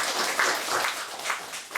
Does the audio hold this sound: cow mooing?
no